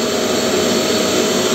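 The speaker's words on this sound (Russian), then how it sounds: "Ну вот, пылесос работает" Vacuum cleaner running on a homemade sandblasting cabinet, a loud, steady, close whining roar with no variation and no speech.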